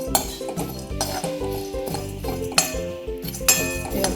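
A spoon clinks and scrapes repeatedly against a pan while dry spices and black peas for a Malvani masala are roasted and stirred, with close metallic knocks in an uneven rhythm and no voices.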